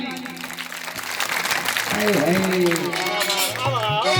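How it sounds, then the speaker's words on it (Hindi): A group of children clapping in a noisy room, the claps building and growing louder midway while voices talk and call out over them. "ऐसे ताली बजाओ।"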